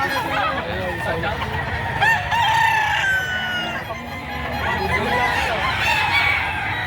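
A bull stag rooster of Melsim Black bloodline crows several times amid a noisy poultry market in Batangas, with other chickens clucking nearby and people talking in the background.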